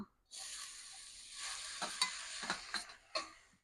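Water spinach (kalmi shak) dropped into a hot wok, starting a soft hiss that builds into a sizzle with a few sharp stirring scrapes and clinks, fairly faint and close.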